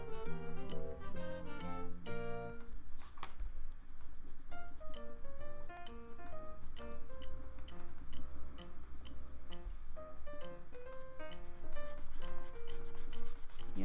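Colored pencil shading on paper to blend a horizon, soft continuous scratchy rubbing strokes, close and quiet, under faint background music.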